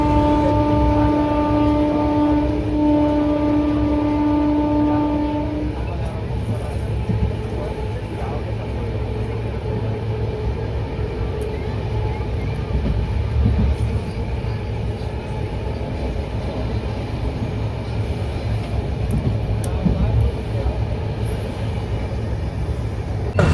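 A crowded superfast express passenger train runs steadily, heard from beside the window as a loud, continuous low rumble. A held tonal hum fades out early on, and the rolling noise carries on to the end.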